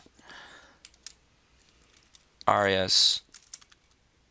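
Scattered light clicks of typing on a computer keyboard, soft and close, with a person briefly talking in the middle.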